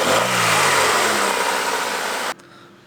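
A right-hand-drive Ford EF wagon engine, freshly repaired for timing-chain slack, runs with a steady loud hum and a slight rise in pitch, then cuts abruptly to near quiet just before the end.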